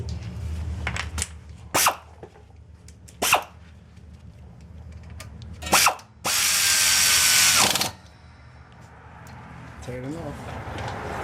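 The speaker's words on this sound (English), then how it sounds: "Run that in with the air ratchet." An air ratchet whirs briefly several times, then runs in a bolt on the rear brakes of a 2014 Ford Escape in one loud two-second burst, close up, with a person talking between the bursts.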